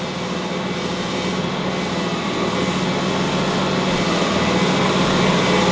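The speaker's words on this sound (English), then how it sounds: "That's the sound of the flour dragging on the sides of the bowl." A stand mixer kneads bagel dough, its motor giving a steady whirring hiss as flour drags on the sides of the bowl, close, loud and continuous, with no talk.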